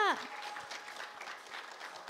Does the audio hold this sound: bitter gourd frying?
no